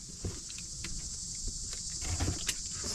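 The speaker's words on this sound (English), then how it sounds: "The cicadas are making a lot of noise" Cicadas drone outdoors on a Sunday afternoon. The high, steady buzz runs faintly throughout, with soft handling taps and rustles close by.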